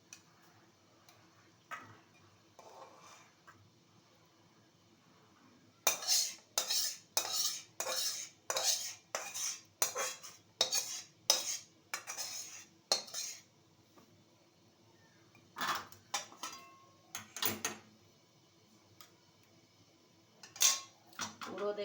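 Metal utensil scraping and clinking against a cooking pan while lifting out cooked fish, a run of sharp repeated scrapes in quick rhythm, then a pause and a few more clatters, loud and close with no talk.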